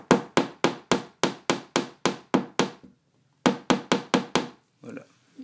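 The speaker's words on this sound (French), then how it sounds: "je vais prendre le marteau et je vais taper doucement" A hammer gently taps a nail into a wallpapered wall in a steady run of sharp, close knocks, about eleven in a row, then a brief pause and four or five more taps.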